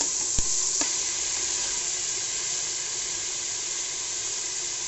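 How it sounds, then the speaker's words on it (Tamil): Chopped tomatoes sauté in a pan with softened onions, giving a steady loud sizzling hiss close by, with a couple of sharp clicks near the start and no talking. "இப்போ தக்காளி ஆட் பண்ணி நம்ம நல்லா வதக்க போகிறோம்."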